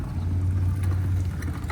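A V8 Perkins engine taken from a combine harvester and fitted into a squarebody truck idles with a steady low rumble, loud and close, with no talk.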